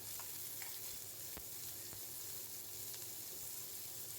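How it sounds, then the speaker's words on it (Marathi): Onion sautés in hot oil with cumin and mustard seeds, a continuous soft sizzle and crackle with a few faint stirring taps, quiet and unbroken. "लगेच कांदा टाकून घेणार आहे आपण कांदा व्यवस्थित परतून घ्यायचा आहे आपल्याला"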